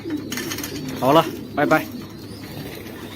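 A male racing pigeon, back injured after days missing, gives two short throaty coos close by. A person speaks briefly over faint background noise.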